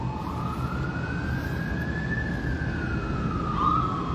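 An emergency tsunami-alert siren in Honolulu, Hawaii wails, its pitch slowly rising then falling, steady and moderately loud over background noise, with no voices.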